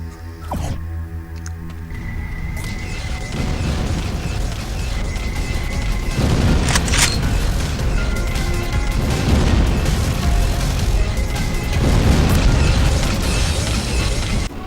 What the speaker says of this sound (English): Oh god, my own turrets are killing me.